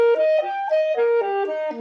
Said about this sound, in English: now we do the major triad